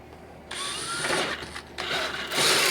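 A power drill whirs steadily while enlarging a pilot hole in a furnace repair part, close and continuous with slight changes in pitch and load as the bit bites, no speech.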